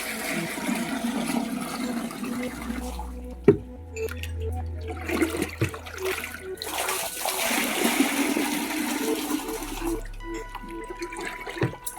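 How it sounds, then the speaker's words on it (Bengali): Water pours into a bucket, about half filling it, to feed calves. The gushing and splashing comes in uneven bursts with a few hollow knocks and low thumps nearby. "একে এবার জল ভরতে হয় বালতিতে।"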